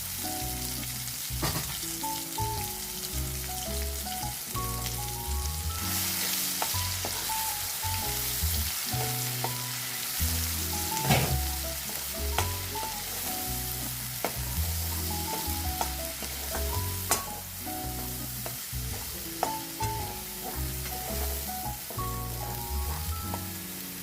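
Ground masala sautés in a pan for a dry-fish-style plantain fry, giving a steady sizzle with stirring scrapes under melodic background music throughout.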